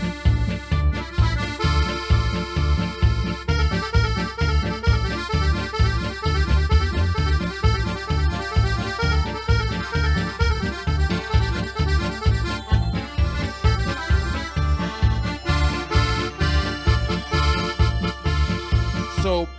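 Ketron SD9 Pro arranger keyboard plays an accordion voice layered with a modern sound over a Hungarian-style rhythm, with steady pulsing bass and chords and a busy melody running continuously and loud throughout.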